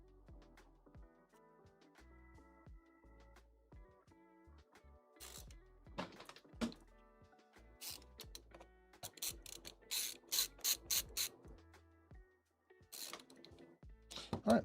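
Screws being backed out of the outer casing of a console or computer during repair, giving quiet clicking and ratcheting turns in scattered bursts, with denser clusters of clicks near the end.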